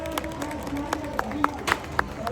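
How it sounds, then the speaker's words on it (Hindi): A handful of sharp, separate claps ring out unevenly at the Chaiti Mela fair in Kashipur, Uttarakhand, close by, under steady crowd murmur and someone talking. "ये ताली बजाओ भाई।"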